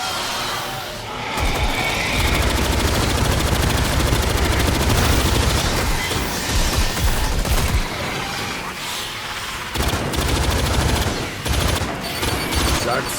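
Deployed gun emplacement in the video game Aliens Fireteam Elite firing rapid sustained bursts, a loud dense rattle of automatic fire with short breaks, mixed with game effects and brief voices.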